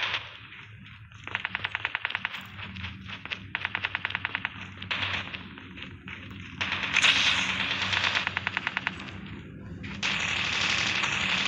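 M4 LG rifle in Call of Duty Mobile battle mode firing in long rapid full-auto bursts, each clattering string of shots separated by short pauses, loud and close.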